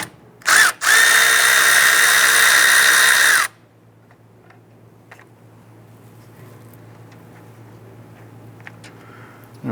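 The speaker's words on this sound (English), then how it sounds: "Let's go ahead and loosen and remove the bolts and separate the line from the condenser." A power tool with a 10mm socket spins out bolts on the A/C condenser of a 2008-2013 Nissan Rogue: a short burst, then a loud steady whir for about three seconds, followed by a quiet low hum.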